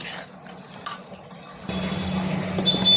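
Spice paste for Bengali alu chop frying in a pan, starting with faint scraping stirs and then a steady hiss of sizzling oil after a pause.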